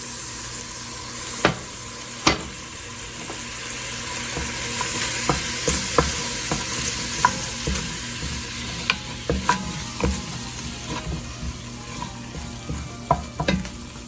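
Flour being stirred into a sizzling pan while making Cajun pasta with shrimp, chicken and sausage: a steady frying hiss runs throughout, with scraping utensil strokes and sharp clicks and taps against the pan.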